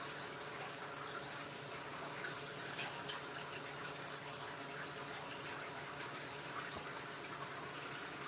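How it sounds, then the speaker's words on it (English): Steady water trickling and splashing through hydroponic grow towers inside a grow tent, a continuous, even flow with no breaks, soft to moderate in level and heard alone without talk. "when you just listen to the flow of the water from the towers"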